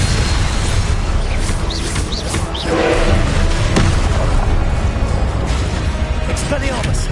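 In Hogwarts Legacy, a Confringo spell explosion booms loudly amid continuous dense combat noise, with thuds and bursts rolling through a busy magical duel while voices are heard.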